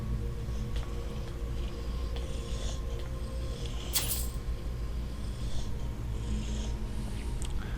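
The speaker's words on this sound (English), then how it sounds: "Their heavy breathing is quite creepy." Creatures in the video game Skyrim breathe heavily in a dungeon, a low continuous rasping and snorting rumble with a few faint metallic clinks over it.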